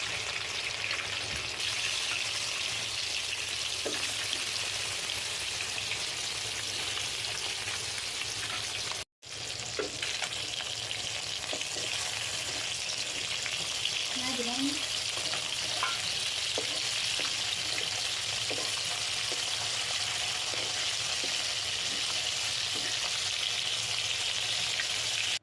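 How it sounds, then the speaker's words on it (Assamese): Turmeric-and-salt-rubbed fish pieces fry in hot oil in a wok, a steady loud sizzle and crackle throughout with occasional pops and a brief cut, no talking. "ইফালে কেৰাহীত তেল দি ল'লোঁ দি মাছখিনি দি দিছোঁ"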